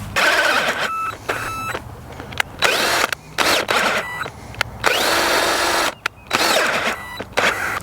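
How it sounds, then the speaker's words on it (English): A power drill whirs in repeated bursts, stopping and starting as it bores a hole through a wooden post, loud and close, with short pauses between runs. "I'm going to drill a hole through the post and put the anchor through"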